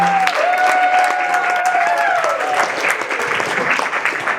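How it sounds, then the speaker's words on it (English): A crowd at a Toronto community jam session event applauds and cheers for the chef, steady clapping with a few raised whoops and shouts rising above it throughout. "Make some noise for Chef Karima."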